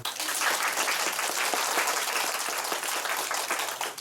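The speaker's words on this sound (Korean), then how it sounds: "박수 한번 주세요." A room of students at a school debate contest applauds the first- and second-year debaters, with brisk, dense clapping that stays steady and fairly close throughout.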